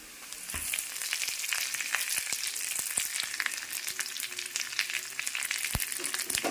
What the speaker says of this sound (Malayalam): ഇതിലേക്ക് ഞാൻ കറിവേപ്പില ഇട്ട് കൊടുക്കുവാണ്